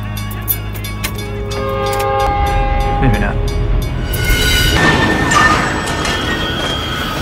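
A train horn blares at a railway crossing, then a heavy train rumbles and clatters loudly past close by.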